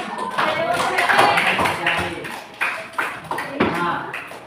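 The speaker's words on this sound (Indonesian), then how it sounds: "Oke, kita tepuk tangan dulu." A class of students claps together during a lesson, with a burst of mixed clapping followed by several sharper, evenly spaced claps; voices are heard in the room alongside.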